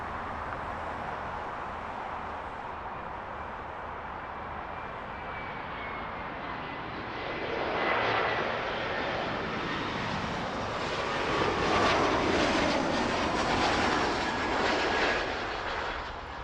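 An Air Canada Embraer E175 jet at Toronto airport roars steadily, its engine noise swelling louder toward the end as it passes nearer.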